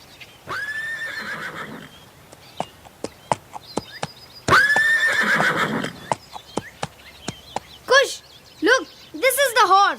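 A horse whinnies loudly twice in long rising-falling calls, with sharp hoof clops and knocks between them and a few shorter higher cries near the end, on a stage at a school function.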